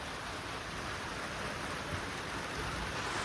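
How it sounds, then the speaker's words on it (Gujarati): Rain falls in a steady, even hiss during an unseasonal summer storm, a continuous soft wash of drops with no voices. "વરસાદ આવ્યો મિત્રો"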